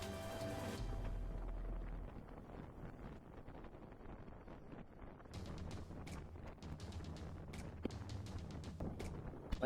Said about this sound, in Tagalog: Medyo malakas na yung hangin.